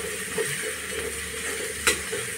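Brinjal pieces drop into dried bay prawns (sukat) already frying in oil, giving a steady close sizzle with one brief sharper hiss partway through.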